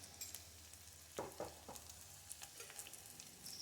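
Chopped onion and green chilli fry in a pan, giving a faint, steady sizzle with a few soft stirring taps and scrapes.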